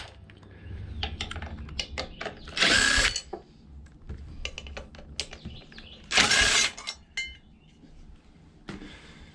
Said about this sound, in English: we're gonna use our 5/16 to take the valve cover bolts